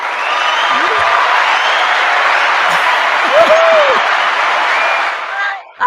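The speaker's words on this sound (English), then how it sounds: "Can you give yourself a round of applause?" Audience applause at a business-buying seminar, a steady wash of clapping lasting several seconds with a couple of whoops and cheers rising over it, fading near the end.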